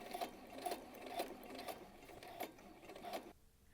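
A sewing machine stitches a back slit, running in a steady rapid mechanical rhythm of clicks and whirring that stops abruptly near the end, close and fairly quiet.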